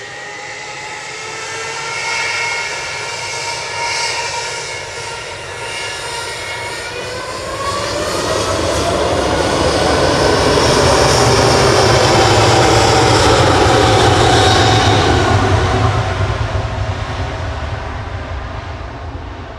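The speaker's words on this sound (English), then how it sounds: "Lining up now on 23 left is Gulf Air, heading back to Bahrain" Gulf Air Boeing 787-9 Dreamliner lining up on runway 23 left at Manchester Airport, a loud, sustained jet engine roar with rising and falling whining tones that swells midway and then eases slightly.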